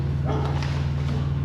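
A dog barks a few times at moderate distance beside a truck and trailer, the short yips sitting over a steady low engine drone.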